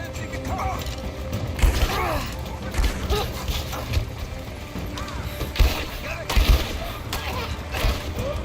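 Gunfire in a Rise of the Tomb Raider firefight rattles out as scattered bursts of shots and clattering impacts, mixed with shouted voices and mechanical creaks in a busy combat soundscape.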